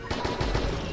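Rapid gunfire in the online action video game Lost Saga, a quick run of closely spaced shots filling one brief moment at a steady, moderate level.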